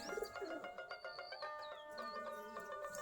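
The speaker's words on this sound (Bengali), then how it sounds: "আমাদের প্রায় 40 থেকে 45 জোড়া কবুতর আছে, সম্পূর্ণ গিরিবাজ কবুতর, দেশি গিরিবাজ এগুলা।" Native Deshi Giribaz pigeons in a loft of about forty pairs coo softly and steadily, with layered, murmuring calls overlapping and faint chirps mixed in, no talk heard.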